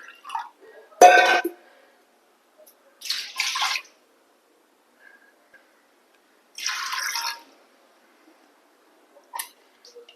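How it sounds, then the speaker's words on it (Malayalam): Water is poured over washed lentils in a pressure cooker while making a dal, bitter gourd and tomato curry, in four short splashing bursts separated by quiet gaps, close and moderately loud. "പരിപ്പ് വേവാനുള്ള വെള്ളം ഒഴിച്ചു കൊടുക്കുക"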